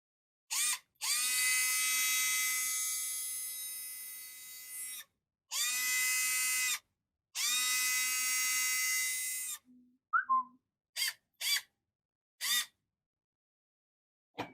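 A rewound 775 electric motor runs in several short bursts, a high whining hum that starts and stops abruptly, with clicks and brief blips between runs.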